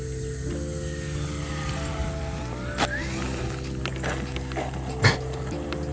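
An FMS Pitts RC model plane fitted with a 16x10 propeller drones with a steady, close buzzing motor whine that briefly rises in pitch, with a couple of sharp thumps along the way.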